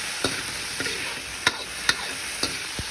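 Sardines sautéing with tomato in a pan, a steady close sizzle with a few sharp spatula scrapes and taps against the pan, no talking.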